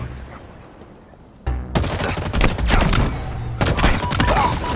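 Rapid bursts of automatic gunfire from Halo Infinite multiplayer crackle loud and close in dense volleys after a quiet opening, with repeated shots layered over one another.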